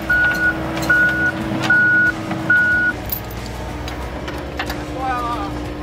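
A pickup truck backs up while a reversing alarm sounds four evenly spaced beeps over a rumbling engine. Talking is heard over the engine.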